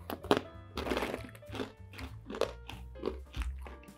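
Crunchy wasabi-flavoured Asian snack being chewed up close, a series of sharp crisp bites and crunches in an irregular rhythm, fairly quiet with no talk over it.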